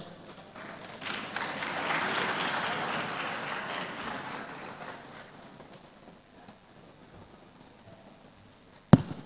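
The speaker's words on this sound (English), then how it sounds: "Please, a warm round of applause for all the insights shared" Conference panel audience gives a round of applause that swells early, stays moderate, then slowly fades to a thin patter, ending with a sharp thump; fairly distant overall.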